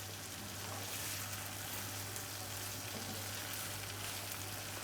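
Brain masala (maghaz) sizzles steadily as it is fried on full flame, a continuous dense hiss of frying with no talk over it.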